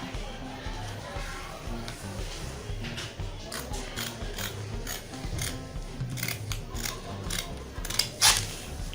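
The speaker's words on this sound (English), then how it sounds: "Then the next thing to do now is to cut it out." Scissors snipping through fabric while cutting out a handkerchief-style top, a run of close, crisp rasping cuts that grows busier and ends in a sharper snip, with no talking.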